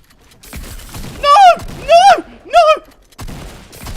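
Charge shotgun blasts in a Fortnite-style video game, three loud heavy booms about half a second apart with ringing tails, mixed with game sounds and no speech over them.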